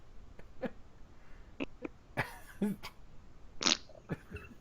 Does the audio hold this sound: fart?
yes